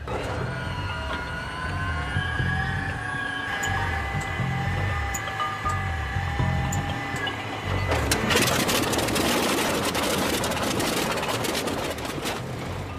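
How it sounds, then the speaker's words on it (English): A World War II era aircraft engine is started cold with thick, unwarmed oil: whining mechanical tones build for several seconds, then the engine catches into a loud, rough, sputtering roar that carries on to the end. "starting the engine cold is a haphazard and messy affair"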